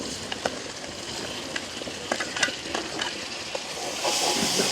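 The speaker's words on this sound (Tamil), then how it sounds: "இப்போ நாங்கள் வந்து தக்காளி பழத்தை சேர்த்துக்கொள்வோம்" Tomatoes sizzling as they go into a hot frying pan for spicy chickpea sundal, with a steady close hiss, scattered stirring clicks and spatters, and a rising sizzle at the end.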